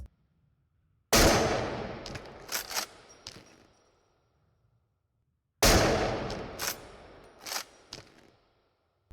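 Two separate gunshots from the video game Into the Radius, each a sharp, loud crack followed by clattering mechanical sounds and a fading tail, with silence between them.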